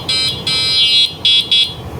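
An electric bicycle conversion-kit horn, wired through the throttle switch, sounds four shrill electronic beeps, the first two longer and the last two short, loud and close.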